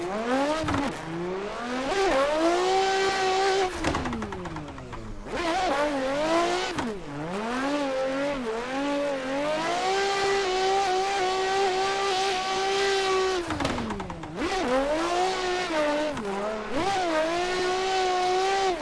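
Race car on a drift practice run, its engine revving loud and close with rising and falling pitch, shifting gears and brief tire squeals, no talk.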